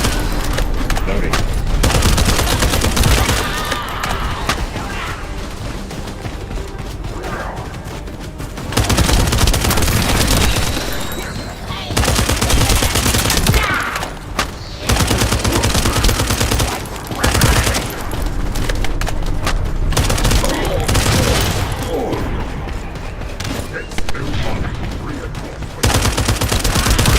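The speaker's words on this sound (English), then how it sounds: "That stopped the gunfire" Intense gunfire in the shooter video game The First Descendant: long bursts of automatic fire and explosive booms with brief lulls, loud and close, mixed with game effects.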